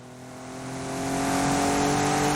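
A roughly 460-horsepower race car weighing over 1400 kilos, in an A-Class racing video game, its engine revving and climbing steadily in pitch and loudness as it accelerates, up close and with no talking.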